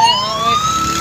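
An ambulance siren wails in a traffic jam with a truck blocking the way. Steady rising and falling tones sound close and loud over traffic rumble, with no talk.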